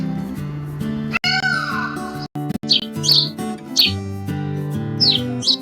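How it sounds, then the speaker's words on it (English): A loud, wailing peacock cry rises and falls over steady background music, followed by a few sharp, high calls. "peacock,"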